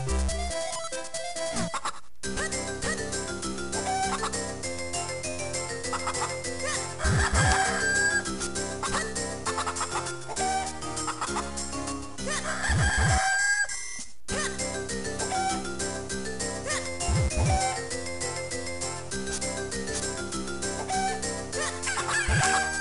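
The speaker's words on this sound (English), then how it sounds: "got a golden chicken" A golden chicken in The Legend of Zelda: Minish Cap crows and clucks in repeated game sound effects, set against continuous busy chiptune music.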